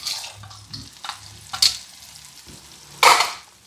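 Carrots and celery softening in a hot pot, a soft sizzle with scattered stirring scrapes and clinks and one sharper clatter near the end.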